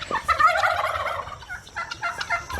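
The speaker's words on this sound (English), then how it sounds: "Let's check on the chickens." Chickens in a backyard flock clucking and calling, a run of close, throaty squawks followed by scattered shorter clucks. No people talk.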